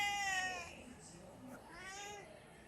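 A house cat lets out a clear meow, followed by a second, softer drawn-out meow, close by in a quiet indoor room.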